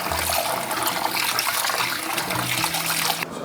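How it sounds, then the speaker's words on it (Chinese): Tap water pours steadily over pork ribs being rinsed and squeezed by hand in a kitchen, a close, continuous splashing hiss without talk. "冲的时候用手轻轻的捏一下"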